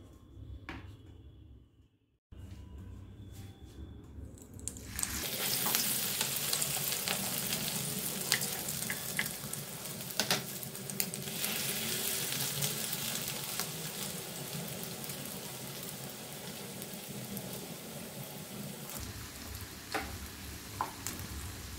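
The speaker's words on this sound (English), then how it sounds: "So my pockets are ready and I'm going to fry them now." Paneer, corn and cheese pockets go into hot oil, preceded by a soft knock and a brief quiet gap, then a loud, steady deep-frying sizzle with crackles continuing close by to the end.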